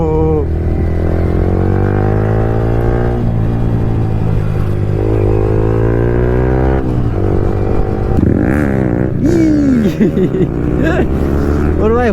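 A motorcycle pulls wheelies, its engine droning steadily and loudly with rising and falling revs, while voices shout and exclaim over the noise.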